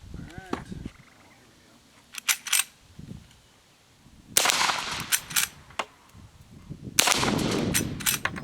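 Winchester 1873 rifle fired outdoors with Fiocchi ammunition: a few sharp cracks followed by longer loud bursts of report and echo, with voices talking between shots.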